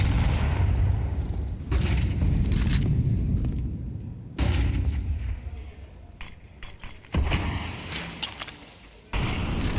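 Grenade blast in Counter-Strike during an IEM Cologne Major match, a heavy boom followed by further loud rumbling bursts that recur several times, each decaying before the next hits.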